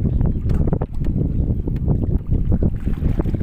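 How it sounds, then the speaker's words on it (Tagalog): Strong wind buffets the microphone on a fishing boat out on a river, a loud, gusty, uneven roar that fills the scene with no other sounds standing out. "Medyo lumakas na naman yung hangin."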